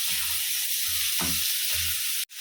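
Onions and small tomatoes sizzle steadily in a hot pan while a spoon scrapes and stirs in a few slow, rhythmic passes, with a sharp clank near the end; no one speaks.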